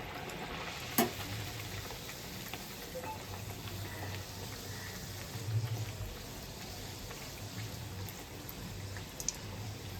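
Dal puri fries in hot oil in a pan on a gas stove, giving a soft, steady sizzle and bubbling throughout, with a sharp clink near the start and faint utensil sounds later.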